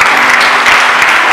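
Steady applause from a church congregation during a Spanish-language worship service, dense, even clapping filling the room without a break and no voices rising above it.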